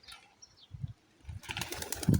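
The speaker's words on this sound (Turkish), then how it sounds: "Uçan kuşlar arkadaşlar." Pigeons take off and flap their wings, with soft wingbeats at first and then a louder, rapid flurry of flapping close by.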